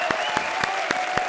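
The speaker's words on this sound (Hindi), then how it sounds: "तालियां राजा और प्रीति के लिए." Studio audience applause on a comedy show, a steady continuous wash of clapping filling the whole moment at moderate loudness, with no talking over it.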